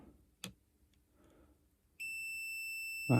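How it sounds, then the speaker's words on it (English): A faulty Game Boy Advance SP under repair on a workbench gives a steady, piercing electronic beep that starts partway through and holds, preceded by a few soft clicks and handling sounds. "that does beep."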